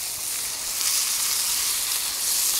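Prime ribeye steaks sear on a hot soapstone inside a Kamado Joe grill, giving a steady, close, dense sizzle that holds evenly throughout with no voices.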